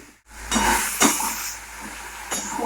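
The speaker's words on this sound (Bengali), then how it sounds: "এদিকে টমেটোটা ভাজা হতে হতে" Tomato fries in hot oil in a pan, a steady close sizzle and hiss with a few stirring scrapes and spatters rising and easing.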